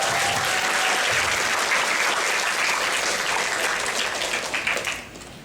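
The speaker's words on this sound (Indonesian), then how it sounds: "Jadi monggo ya tepuk tangan lagi buat mereka" A theatre audience claps loudly for the stage crew in a dense, sustained roar of applause that holds steady before thinning and fading out near the end.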